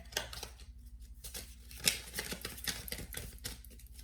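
Tarot cards are shuffled close by with papery riffling, soft flicks and snaps, quiet overall with a sharper riffle near the middle.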